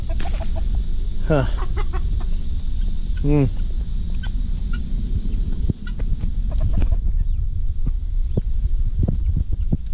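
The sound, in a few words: chickens clucking while eating figs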